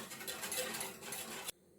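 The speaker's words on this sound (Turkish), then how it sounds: "Sürekli karıştırarak bunu pişireyim" Quiet scraping and clinking of a utensil stirring pudding inside a pot, continuous for a moment before stopping abruptly.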